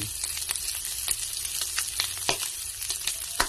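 Garlic frying in oil in a pan for a bean sprout and glass noodle dish, a continuous close crackling sizzle with occasional stirring scrapes and pops.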